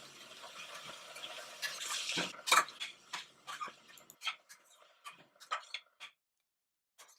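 Onion sautéing in a pan for mutton keema gives a faint, quiet sizzle with intermittent scraping strokes of a spoon stirring, fading into sparse clicks and near silence at the end.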